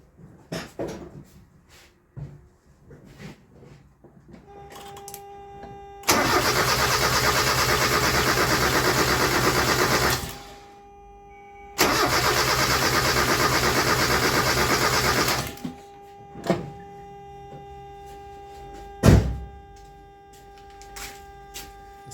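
A 1994 Mazda Miata engine cranks without catching, the starter whirring loudly in two long bursts of several seconds each, separated by pauses, with scattered clicks and knocks around them.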